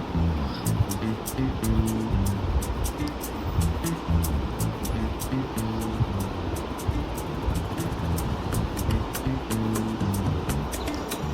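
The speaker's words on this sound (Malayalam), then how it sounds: "ആ കടലിൻ്റെ ഓളത്തിൽ ബോട്ട് ഇങ്ങനെ അനങ്ങുന്ന എന്ത് രസമല്ലേ." A boat passes under the Valiyazhikkal bridge and enters the sea. A steady engine drone and rushing water continue throughout, with faint regular ticking above the wash.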